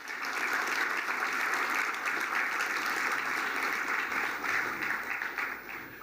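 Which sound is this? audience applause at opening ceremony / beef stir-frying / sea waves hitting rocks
audience applause at opening ceremony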